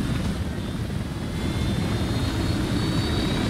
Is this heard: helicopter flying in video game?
yes